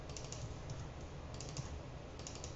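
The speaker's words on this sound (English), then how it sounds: "I'm just double-clicking and copying and pasting" A computer keyboard and mouse are used in quick bursts while text is double-clicked, copied and pasted, giving faint clustered clicks and keystrokes over a steady background hiss.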